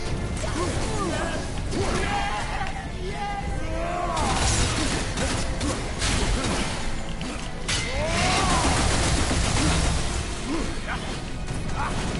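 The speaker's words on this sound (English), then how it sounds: "Explosions." Repeated crashes and bursts of explosions in God of War with whooshes and mechanical clatter, loud and busy throughout, with some voices mixed underneath.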